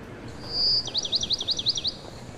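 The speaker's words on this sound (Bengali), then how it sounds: "খানিক বাদেই পাখিদের কিচিরমিচির কানে এলো" Birds chirp at a bird market: a sustained high whistle gives way to a rapid, rhythmic run of about a dozen bright trilling chirps, close and clear over a faint background hiss.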